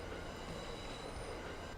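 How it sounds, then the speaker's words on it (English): Loud continuous rumble and screech of train wheels and brakes grinding during an emergency stop in a train video game, steady and close, with no pauses. "Well, there's your emergency stop again."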